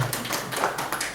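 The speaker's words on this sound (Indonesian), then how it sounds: "Kasih tepuk tangan untuk diri kalian sendiri." A seated group of people applauds themselves at a sales training session, a short, loud burst of mixed clapping lasting about a second.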